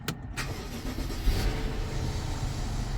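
A BMW with a twin-turbo 4.4 engine and 108,000 miles is started, giving a short cranking burst that catches into a steady, close idle.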